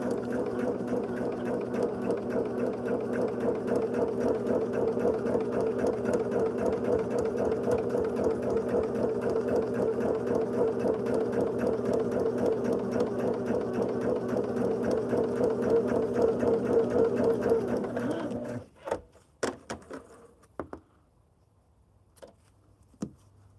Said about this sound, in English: And then we're going to stitch this long seam.